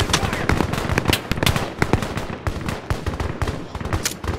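Rapid gunfire in a video game, a dense string of sharp, loud shots crackling close together for several seconds with hardly a pause.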